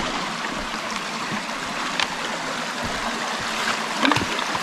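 Gold-bearing material from a bedrock crevice being panned in stream water, with a constant close rush and trickle of water and a few brief splashes and knocks near the end.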